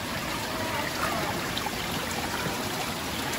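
Cold spring water runs straight from its source on a trail near the beaches of Ubatuba, a steady close trickle and splash that fills the whole moment with no voices over it.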